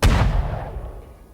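A single heavy cannon blast booms in the farming video game Farm Together, a loud, close thump that rolls off into a fading rumble over about a second.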